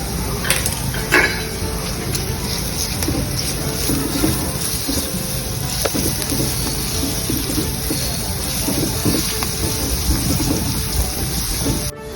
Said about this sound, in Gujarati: હવે આપણા કેપ્સિકમ અને કાંદા સતળાઈ ગયા છે પછી તેમાં આપણે નાખીશું લસણ અને આદુની પેસ્ટ।